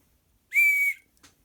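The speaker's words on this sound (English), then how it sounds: "which is a whistle made out of willow, this wood here" A handmade willow-wood whistle blown once with a clear, steady high tone lasting about half a second, followed by a faint breathy puff.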